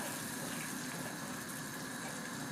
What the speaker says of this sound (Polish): Już się zaczęło gotować, więc można skręcić trochę gaz.